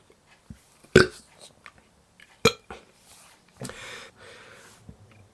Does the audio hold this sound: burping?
yes